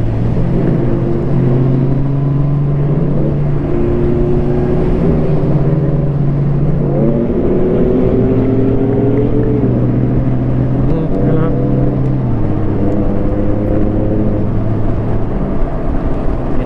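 Cars and motorbikes pass along a road at an Ironman race, rising and falling engine drones with shifting pitches and a constant traffic rumble, while people talk nearby.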